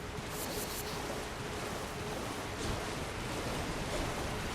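Steady rushing water from a waterfall in the video game Elden Ring, a continuous broadband roar of even loudness with no talk over it.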